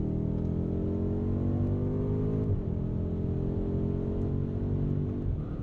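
A 2018 BMW F90 M5 on a race track, its engine giving a steady, loud, deep drone that holds at a constant pitch and dips slightly partway through, with no voices.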